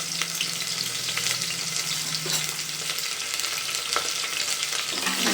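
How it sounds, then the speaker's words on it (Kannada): Finely chopped onion sizzles in hot oil tempered with mustard seeds, a dense steady frying hiss with occasional spatula scrapes and pops, close and without speech. "ಈಗ ಇದಕ್ಕೆ ನಾವು ಒಂದು ಈರುಳ್ಳಿನ ಸಣ್ಣ ಸಣ್ಣದಾಗಿ ಹೆಚ್ಕೊಂಡು ಒಗ್ಗರಣೆಗೆ ಹಾಕ್ಕೋಬೇಕು."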